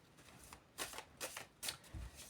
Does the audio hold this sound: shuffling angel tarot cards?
yes